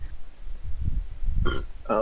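A man burps during a casual podcast recording, a few low guttural bursts that sit close and loud beside brief voiced sounds.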